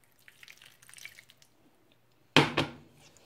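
A brief splash of about a quarter cup of water pouring into a pan for a cheese sauce, two quick liquid bursts after faint clinking and quiet background sounds.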